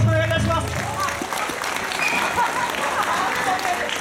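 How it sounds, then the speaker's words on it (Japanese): Audience applause after an eisa dance stage performance at an outdoor festival, a broad wash of clapping from a crowd that follows a brief musical tail at the start. "皆さんに今一度大きな拍手をよろしくお願いいたします"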